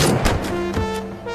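Gunfire in a narrated action story, a few heavy booming shots in quick succession over a low sustained tone, fairly loud and without talk.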